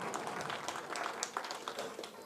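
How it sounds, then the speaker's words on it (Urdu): An audience at an Urdu mushaira poetry gathering welcomes a poet with fairly faint, uneven clapping. Individual hand claps stand out over a soft crowd murmur. "تالیوں سے ان کا آپ استقبال فرما دیں"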